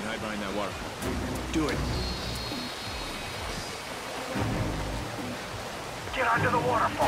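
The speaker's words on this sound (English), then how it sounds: "under the waterfall." Steady rushing waterfall in the Call of Duty: Ghosts video game, a dense broadband roar running the whole time and swelling in places, with voices talking over it.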